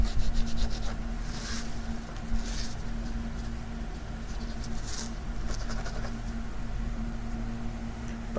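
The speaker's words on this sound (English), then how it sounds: "You can also take the screw and rub it back and forth over the pad." A metal guitar screw from a Squier is scrubbed back and forth across a cleaning pad, making close, soft rasping strokes in an uneven rhythm over a low steady hum.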